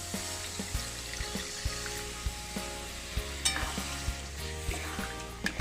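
Paneer butter masala sizzles and bubbles in a pan after water is added, a steady frying hiss broken by regular clicks and taps of stirring, close and fairly quiet.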